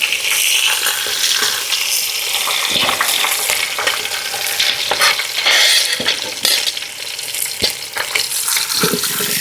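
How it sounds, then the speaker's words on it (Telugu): Boiled chicken pieces sizzle and crackle in very hot oil at an outdoor village cooking setup, a steady close frying hiss with occasional stirring scrapes and pops throughout. "ఇలా చూపించే విధంగా ఫ్రై చేసుకోవాలి."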